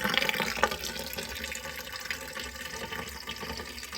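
Water drains slowly from a water heater's pressure relief valve with the top connection undone, a faint steady trickle and gurgle of flowing liquid with small splashes.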